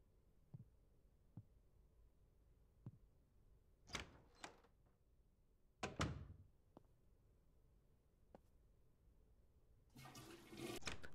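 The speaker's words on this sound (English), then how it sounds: "We'd flush the toilet." A toilet flushing in the game Nightmare of Decay, heard as soft knocks and thuds followed by a rising rush of water near the end, quiet and close with no talking.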